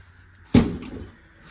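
A medicine cabinet door in an RV bathroom shuts with a single sharp, close knock and a brief rattle, followed by quiet.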